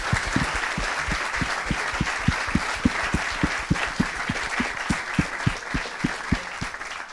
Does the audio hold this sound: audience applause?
yes